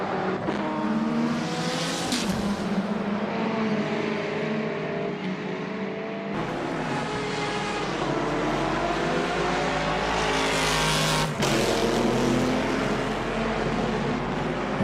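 Ferrari GTE race cars in a sim racing game at Shanghai International Circuit, engines droning and revving continuously and loudly, several cars running close together with gear-change dips and a sharp shift near the end.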